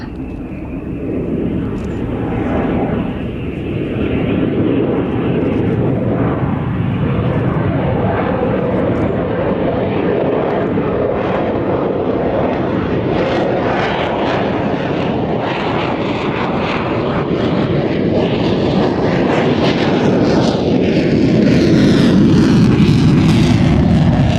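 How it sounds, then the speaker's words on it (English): A jet fighter making a nose-high, high angle of attack pass at an airshow, a loud sustained engine roar that swells and rises in pitch as it nears, filling the whole stretch with faint wind buffeting. "look at this, for a high alpha, high angle of attack, nose high pass"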